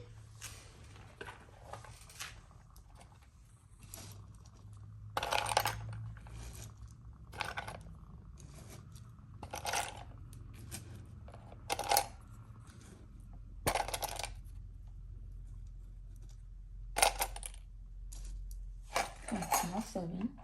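Assorted nuts drop one handful at a time into a prosperity bowl, giving repeated short clattering rattles spaced a second or two apart, at moderate level over a low steady hum, with no talk.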